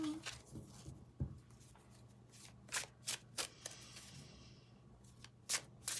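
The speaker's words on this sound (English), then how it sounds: "Shuffle." A deck of tarot cards is shuffled by hand in several quick, crisp riffles and slaps spread across the stretch, fairly close and soft, with no talk over them.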